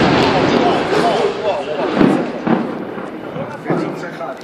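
Blasts from an unsuccessful attempt to demolish a flour mill building in Ashkelon sound as a broad rumbling roar with several dull booming thuds, heard from a distance while onlookers talk nearby.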